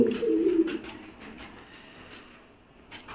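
Pigeons coo close by in a low, throaty burst at the start, then fade into quiet background noise.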